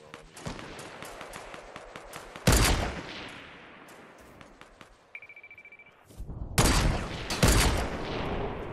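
Rapid bursts of gunfire from a Fortnite match, a dense volley early, heavy loud blasts around the middle and another sustained barrage near the end, with a brief steady electronic tone in between.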